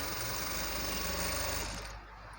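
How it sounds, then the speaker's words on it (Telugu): A sewing machine stitches a can-can lehenga, its motor running in a steady close-up hum that drops off near the end. "ఫోల్డింగ్ చేసుకుంటూ ఇలా కుట్టండి."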